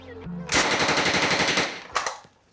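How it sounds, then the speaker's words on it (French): An Uzi submachine gun fires a rapid burst of evenly spaced, loud, close shots lasting over a second, followed by a final shot and a mechanical clack as it stops. "Là, il arme le chargeur de son Uzi. Attention, bouchez-vous les oreilles, ça va faire du bruit."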